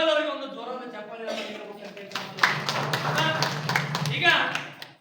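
Audience applause at a Sharana Sahitya Parishat folk cultural programme: someone speaks over a microphone, then a burst of clapping from the crowd rises and carries on steadily before fading.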